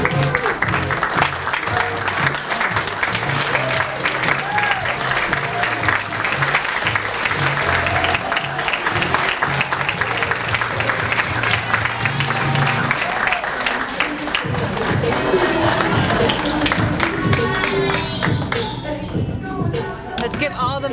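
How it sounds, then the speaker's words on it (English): An audience at a surgeons' fashion show applauds the models. The clapping is loud and sustained, with music playing underneath and some shuffling and voices mixed in, and it thins out near the end. "Let's give all the models a great applause."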